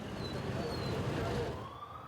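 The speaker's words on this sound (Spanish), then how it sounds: "Escuchamos sirenas a esta hora, también motorizados que vigilan esta zona del parque" Police sirens sound on a street in Guayaquil by the Parque de las Iguanas, a faint distant wail sliding in pitch over low traffic rumble before fading.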